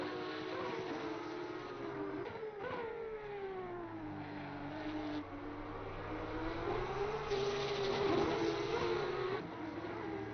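GT3 race cars run on the Valencia circuit in a sim racing championship, layered engine notes rising and falling with shifts as cars pass, moderately loud and continuous, with no talk over them.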